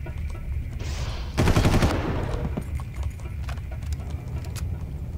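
An enemy in the Far Cry video game fires a rapid burst of gunfire, about half a second of rattling shots over steady game ambience, with scattered faint clicks afterward.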